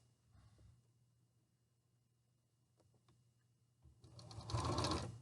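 Sewing machine tacking a quarter-inch hem on an isolation gown sleeve, a faint background hum that swells into a loud close whirring stitch run near the end.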